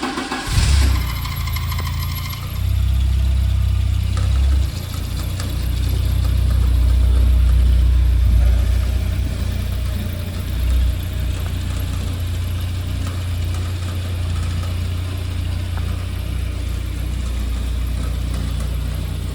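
A Volvo 940 turbo idles steadily while warming up, its low, even engine hum running without a break after a brief louder rise at the start, with no talk.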